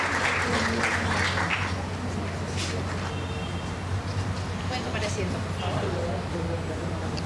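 An audience at an International Women's Day awards ceremony claps in steady applause, with a low hum and some voices mixed into the room sound beneath it.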